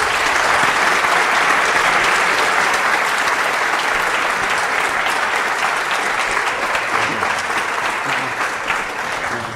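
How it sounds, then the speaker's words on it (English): Sustained, loud applause from a conference audience at PyCon Colombia 2023 after a talk, a dense wash of many hands clapping steadily for several seconds and tapering slightly at the end. "a big applause"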